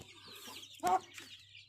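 A chicken near a nesting bird gives a short, sharp cluck close by, with faint softer clucks around it and a low steady hum underneath.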